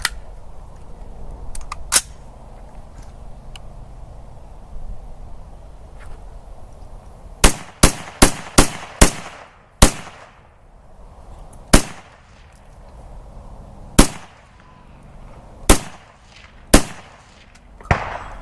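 Several loud gunshots from an SKS military surplus rifle at an outdoor range: a few sharp reports early, then a quick burst of five close together and spaced single shots after, with no talking.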